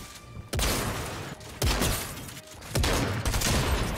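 Gunfire in Fortnite Chapter 3, a few sharp, loud shotgun-like blasts spaced about a second apart, each followed by a noisy sustained burst of rattling fire.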